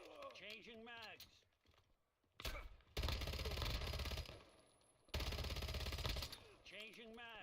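Weapon magazine change during Call of Duty Warzone gameplay: two loud bursts of rapid mechanical clattering and gunfire-like cracks, each lasting over a second, with a voice speaking briefly before and after.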